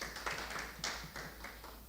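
Audience at an alumni association annual general meeting clapping for themselves, scattered, fairly faint handclaps with a loose uneven rhythm, heard from a distance.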